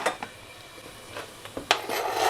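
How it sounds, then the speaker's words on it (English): Chopped onion and garlic go into a pan of oil-coated mushrooms for a mushroom risotto, giving a few quiet clinks and scrapes of a utensil against the pan, with no talking. "I'm going to add my chopped onions and my garlic."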